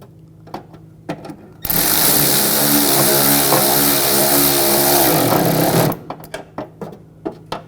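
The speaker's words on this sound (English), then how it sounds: "Take these screws, get these started. Tighten those down." A power driver tightening screws on the grille of a 2004-2009 Audi A4 Quattro makes a loud continuous whir for about four seconds, framed by short clicks and clatters of handling parts.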